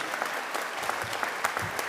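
Audience at a university graduation ceremony for the Faculty of Arts & Society and CDU TAFE applauds the graduates, a steady, dense wash of clapping with no one speaking over it.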